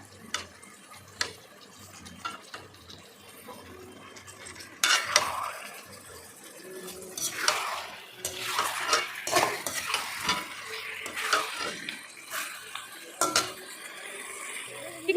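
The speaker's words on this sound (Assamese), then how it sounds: "মাংসখিনি দি দিলোঁ, এতিয়া ভালকৈ ভাজি ল'ম।" Castrated goat meat with spices is fried and stirred in an oily pan, with steady sizzling and repeated close scrapes and clinks of a utensil against the metal.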